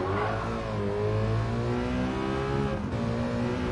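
A GT by Citroen racing car engine in Gran Turismo 7 at Lago Maggiore roars steadily at high revs, its harmonic whine rising slightly as it accelerates, with a brief dip near the end before pulling again.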